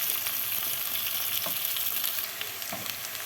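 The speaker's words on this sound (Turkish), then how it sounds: "biraz onların da kavrulmasını bekleyeceğim" Onions and potatoes frying in oil in a pot for a Turkish meatball stew, a constant bright sizzle and crackle with a couple of soft stirring scrapes, close and uninterrupted.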